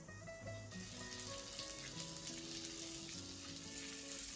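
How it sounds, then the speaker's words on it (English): Paneer tikka skewers sizzle steadily in an oiled pan over a medium flame, a continuous close frying crackle with no voices. "Place the skewers and cook this on medium flame and keep rotating the skewers after each side is done."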